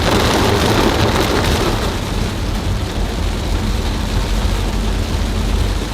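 Heavy rain pours down in a steady, loud, dense roar, heard from inside a car during a downpour on a shopping trip, with no voices.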